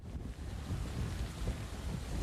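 Strong gusty wind from Hurricane Florence buffets the microphone in a steady low roar that swells and surges through the clip, with a wash like surf beneath and no talking.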